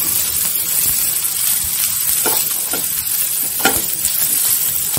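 Ginger pieces roast with onions and garlic in a pan while squid masala is prepared, giving a steady loud sizzle with occasional scraping stirs of a utensil.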